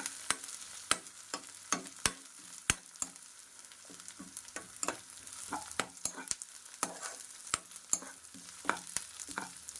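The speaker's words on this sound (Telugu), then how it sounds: "అల్లం వెల్లుల్లి పేస్ట్ అయితే బాగా వేగాలండి" Ginger garlic paste frying in a pan for a colocasia (arbi) kurma gives a steady close sizzle full of sharp crackling pops and spits across the whole stretch, with no talking.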